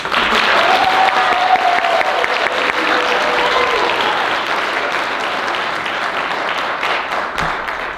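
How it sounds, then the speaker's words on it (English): Loud, sustained applause from a crowd at a National Honor Society induction ceremony in a high school, steady dense clapping throughout with a faint whistle or cheer near the start, easing slightly toward the end. "And now we can have the large roar of applause"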